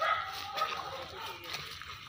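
A local dog barks out in a forest area, a few faint, distant yaps over quiet background noise.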